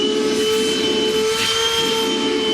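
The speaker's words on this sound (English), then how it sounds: "Now I just want to come back and clean up all of our shavings with the vacuum." A vacuum cleaner sucks up drill shavings, roaring steadily with a high whine running throughout, loud and close, with no breaks.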